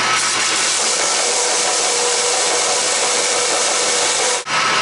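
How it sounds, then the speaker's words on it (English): Steady hand sanding of an engine cylinder head deck, a 5.2 Magnum header rubbed flat on a large 48-inch sheet of sandpaper, giving a continuous loud, close scraping hiss that breaks off briefly near the end. "The way I deck them is I use this big guy right here, this nice flat, like 48-inch sandpaper, and I just lay it on here nice and flat"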